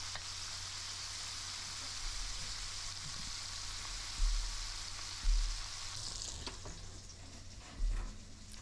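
Fish fillet frying skin side down in a hot pan for a spicy fish sandwich, a steady close sizzle and crackle with a few louder spits and pops near the end.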